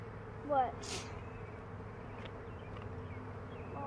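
Honeybees buzz steadily throughout a hive inspection, a low continuous drone from many bees at close range, with a brief louder swell early on and some faint background sounds.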